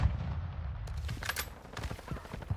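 Gunfire in the video game Call of Duty Modern Warfare 2 during a team deathmatch, heard as a rapid burst of muffled shots over a low rumbling game background.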